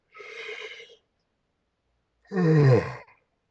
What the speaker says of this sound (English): What I want you to do is to yawn 5 times.